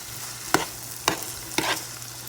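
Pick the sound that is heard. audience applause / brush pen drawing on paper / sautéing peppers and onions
sautéing peppers and onions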